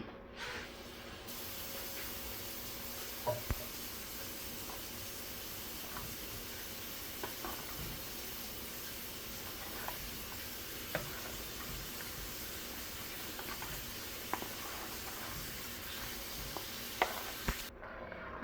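Butter sizzles softly in a pan of sambar as it is stirred, a steady low hiss broken by sharp ticks and clinks of the spoon against the pan at irregular intervals.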